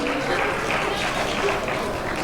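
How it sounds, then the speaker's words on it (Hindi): Guests applaud at a sangeet ceremony, a steady wash of crowd clapping that fills the whole moment at a fairly loud, even level with a light murmur of voices underneath. "एक बार तालियां बजाइए पहले इस सवाल के लिए।"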